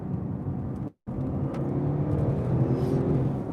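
A 2021 Audi RS7 pulls hard in second gear, its engine a steady loud rumbling roar from inside the cabin, broken by a brief gap just before a shift, then continuing strongly.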